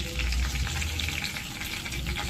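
Chicken joint pieces fry in hot oil, a continuous close crackling sizzle with a low bubbling undertone throughout.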